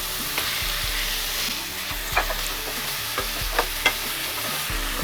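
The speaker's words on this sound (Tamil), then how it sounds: "தக்காளி போட்டு வதக்கிட்டு அடுத்து புதினா போட்டுக்கலாங்க" Tomatoes and mint sizzle steadily in hot oil in a pan for vada curry, a continuous close frying hiss broken by occasional scrapes and knocks of a spoon stirring, with no voices.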